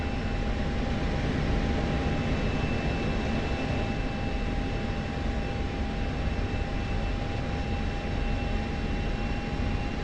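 A jet fighter in the DCS flight simulation game rolls in to land on a runway, its engine a steady, loud droning roar with a constant whine, unchanging across the stretch and with no talk.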